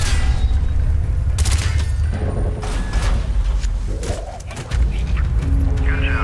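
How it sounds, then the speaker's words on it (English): Gunfire in Call of Duty: Black Ops shooting out door hinges, a dense burst of loud shots and heavy booms with mechanical clatter and faint radio-style voices in the mix. "Shoot the hinges!"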